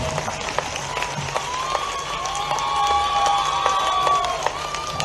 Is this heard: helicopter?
no